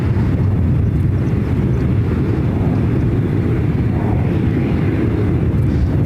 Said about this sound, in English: followed by that heavy China Airlines 777-300ER coming up from Taipei